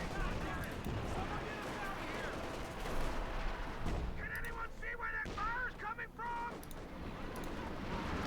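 Artillery barrage in the real-time strategy game Company of Heroes 2 during an OKW versus USF match: dense rumbling shell impacts and scattered gunfire under steady, energetic commentary from a caster.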